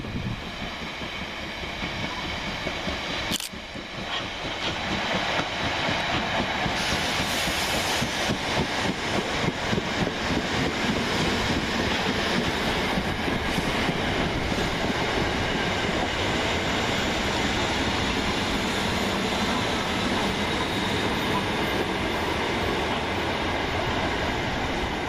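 Southern Railway class 455 units 455837 and 455810 arriving on the far platform at Anerley station, a steady sustained rumble of wheels and rolling stock with a brief squeal, continuous throughout without speech.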